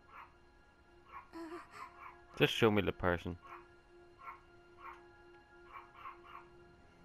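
Squeaky dog characters in Street Fighter 5 yip and whimper in quick high-pitched bursts, loudest in a cluster near the middle, alternating with a person speaking over faint game ambience.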